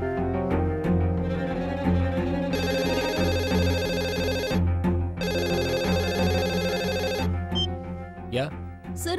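A telephone rings in two long bursts of bright, trilling bell tone, loud and close, over a steady background score in a television drama scene.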